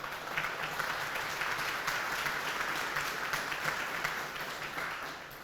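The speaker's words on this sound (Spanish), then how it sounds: "dale un aplauso al Señor si seguimos" A church congregation applauds at a worship service, a steady wash of many hands clapping at moderate distance for several seconds, with faint voices mixed in and no single dominant clap.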